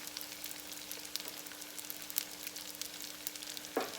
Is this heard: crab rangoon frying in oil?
yes